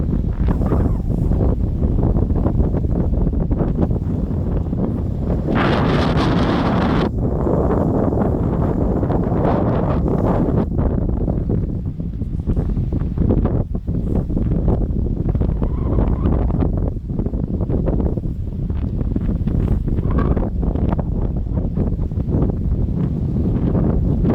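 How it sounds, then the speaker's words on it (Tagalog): Steady, loud wind buffeting the microphone throughout, a constant rough roar with occasional gusts and rustling. "Lamig naman. Mahangin kasi."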